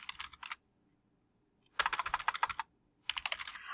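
Typing on a computer keyboard: three quick bursts of close, crisp key clicks separated by short pauses, with no talking.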